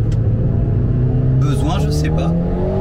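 Alpine A110 GT engine note through a gear shift, a steady droning hum from inside the car with a brief pitch dip and rise at the change, under ongoing speech.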